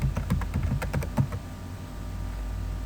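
Quick bursts of keystrokes on a computer keyboard, a rapid clattering run of taps for about a second and a half, then quiet room hum.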